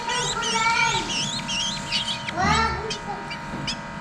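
Black-naped oriole chicks and parent birds calling outdoors near a fallen nest, with repeated high, wavering chirps and whistles over a continuous background of voices and ambient noise.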